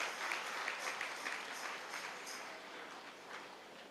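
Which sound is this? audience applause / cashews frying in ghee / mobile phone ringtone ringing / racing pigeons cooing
audience applause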